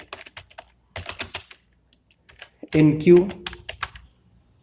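Typing a program on a laptop keyboard, a run of quick clicking keystrokes, with brief speech and a louder burst of talk partway through.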